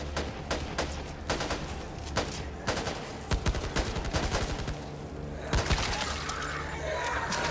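Repeated gunfire in the Back 4 Blood zombie shooter game: sharp individual shots and quick bursts spaced irregularly, some close and punchy, with a busy game backdrop and no talk over it.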